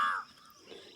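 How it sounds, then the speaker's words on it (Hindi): Crows cawing outdoors in a yard where birds gather to feed, one loud harsh caw at the start followed by fainter calls trailing off, with other birds faintly in the background. "सब काग भी आए हैं"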